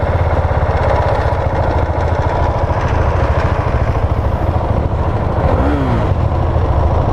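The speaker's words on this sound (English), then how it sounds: "Single cylinder. Sounds like a dirt bike." The single-cylinder engine of a 2019 Husqvarna 701 Vitpilen motorcycle runs steadily and loudly up close, giving a dense, thumping pulse throughout with a brief rise in pitch near the end.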